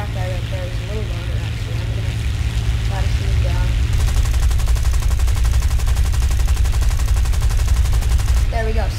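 Gunfire and an exploding ground unit in War Thunder crackle through a dense, continuous wash of engine rumble and rapid shots that grows sharper and busier midway.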